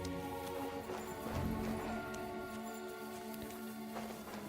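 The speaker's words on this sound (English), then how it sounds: "First, I have to get Sir Hans to the horses." Steady clip-clopping horse hooves in Kingdom Come: Deliverance 2, over a continuous game soundtrack with droning tones, moderately loud throughout.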